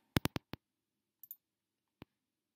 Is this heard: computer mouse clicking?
yes